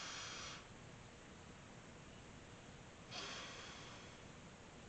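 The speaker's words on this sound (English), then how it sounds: "I will just breathe in for 2 seconds, just a deep breath, just holding in for 4, so, and then breathe out for 2 seconds" One deep breath: a short, airy inhale, a quiet pause while it is held, then a longer, breathy exhale, both close and clear against faint background hiss.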